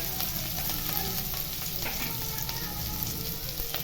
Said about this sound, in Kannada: ನಾನು ಬರೀ ಈರುಳ್ಳಿ ಮಾತ್ರ ಒಗ್ಗರಣೆ ಹಾಕ್ತಾ ಇದ್ದೀನಿ